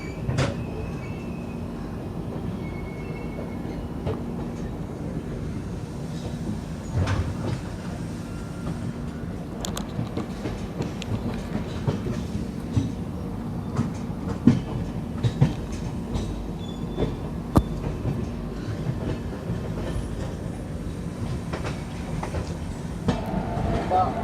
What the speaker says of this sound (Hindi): WAG-12, most powerful locomotive of India,